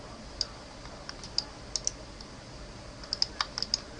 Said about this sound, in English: I'm going to use Control X to cut and Control V to paste